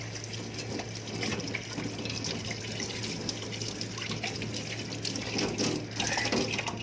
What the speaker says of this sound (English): what I'm going to do next is wash my hands a little bit